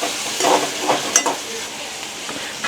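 Onion and tomato with bay leaf sizzle in a hot pan while being stirred, a close hissing fry with scraping stirring strokes rising and falling over a few seconds.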